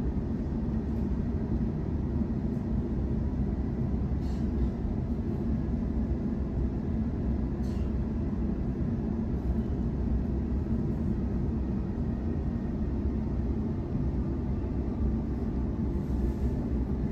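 A passenger train on the T1 line between Artarmon and Asquith gives a steady, low rumble heard from inside the carriage, droning on for the whole stretch with a few faint clicks and no voices.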